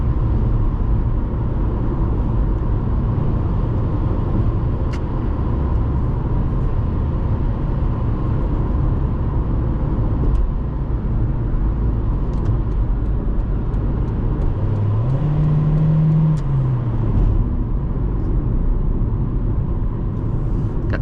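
A 2006 Toyota Corolla LE automatic with skinny tires driven on the road, heard from inside the cabin as a steady, loud low rumble of engine and road noise, continuous with no talking.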